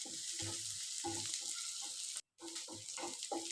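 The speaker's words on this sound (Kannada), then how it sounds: "ಇವಾಗ ಈರುಳ್ಳಿ ಮತ್ತು ಕ್ಯಾಪ್ಸಿಕಮ್ ಎಲ್ಲ ಚೆನ್ನಾಗಿ ಫ್ರೈ ಆಗಿದೆ" Onion and capsicum frying in a pan for capsicum rice, a steady close sizzle broken by rhythmic scraping stirs and one brief dropout.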